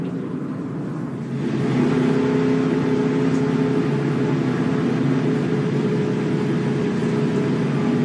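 Stock cars in a NASCAR Cup Series race drone steadily from mid-distance, a sustained engine roar that swells after the first second and holds as a continuous, even whir.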